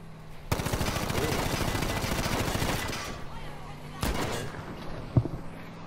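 Rapid bursts of gunfire in Battlefield 5 multiplayer Conquest, a sustained rattling volley for a few seconds, then a sharper single burst and scattered shots, loud and close.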